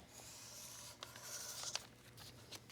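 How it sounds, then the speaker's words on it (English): A pen draws lines down the edges of a paper pocket pattern for a lightweight fleece jacket, giving faint, close scratchy strokes over a quiet room, with no voices. "all I'm going to do is just draw down each edge"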